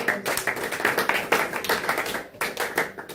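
A church congregation applauding during worship, a steady run of close, dense hand claps with a rhythmic feel, lasting several seconds with faint voices mixed in.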